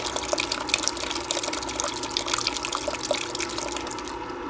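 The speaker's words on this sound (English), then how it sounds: "open up the valves to flush out any of the black sand that might get in it" Water runs through a gold trap as its valves open to flush out black sand, giving a steady, close splashing rush with faint dripping and gurgling throughout, uninterrupted by speech.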